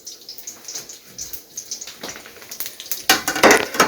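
Cumin seeds and dried red chilies hitting hot oil, giving light crackles and sputters that swell into a louder sizzling burst near the end, mixed with scattered clatter of a pan and utensils.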